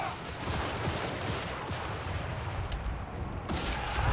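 Artillery fire in the video game Warhammer III, a dense, continuous barrage of booming shots with sharp reports landing around 0.8, 1.7 and 3.5 seconds, loud and sustained throughout with no clear talk.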